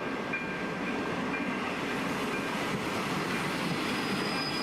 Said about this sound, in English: That is a lot of sound for not a lot of train